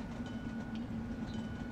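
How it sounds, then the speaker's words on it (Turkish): A train rolls past a level crossing in the video game Truck Simulator Ultimate, a steady rumbling drone with a low hum and faint clattering, continuous and fairly close with no pauses. "Trenimiz geçiyor."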